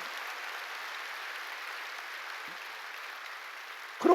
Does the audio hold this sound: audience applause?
yes